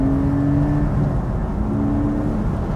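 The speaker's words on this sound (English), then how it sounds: "It pays to rev it out" A Porsche 718 Spyder engine drones at steady revs from inside the car, a loud, continuous hum with a faint whine rising over it.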